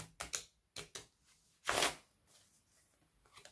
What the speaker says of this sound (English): quick shuffle, retain the top card.